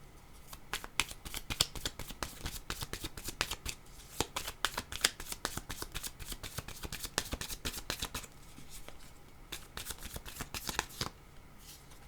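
Tarot cards being shuffled by hand, a quick series of crisp riffling flutters and slaps that repeats close-up with only brief pauses, heard alone without talk.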